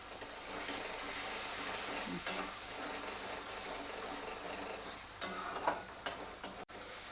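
Spice masala with salt and a splash of water being sautéed in a pan, a soft steady sizzle with a few sharp spatula scrapes and knocks toward the end, fairly quiet and without speech.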